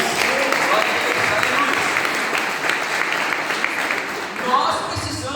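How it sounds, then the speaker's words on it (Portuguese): A church congregation applauds during a sermon, a steady dense wash of many hands clapping that carries through the whole stretch and swells briefly near the end. "Uma salva de palmas para Jesus."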